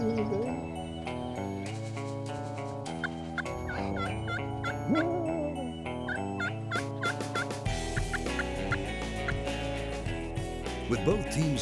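Turkeys gobble repeatedly, loud and nearby, their rattling calls overlapping in bursts against a musical backdrop.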